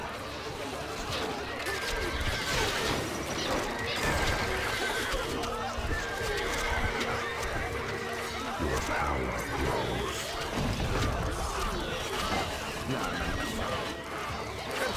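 Horses in the video game Stronghold: Crusader neigh and whinny amid clip-clopping hooves and a murmur of background voices, with shrill drawn-out calls rising over a busy, continuous layer of activity.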